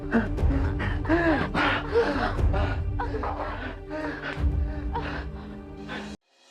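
A person gasps and pants repeatedly as if out of breath, in a busy indoor scene of a Marathi TV serial, with other voices and background sound running under the breathing.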